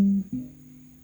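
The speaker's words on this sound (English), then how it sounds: "then don't forget to apply the palm muting technique" Two short palm-muted electric guitar notes sound with the picking hand resting at the bridge saddle, the first dull note dying quickly before a second soft thump rings low and damped, fairly quiet and alone.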